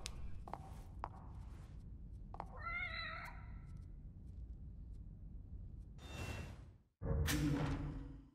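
A cat in The Evil Within gives one short, clear meow amid quiet eerie game ambience, followed by whooshing effects and louder noise bursts near the end.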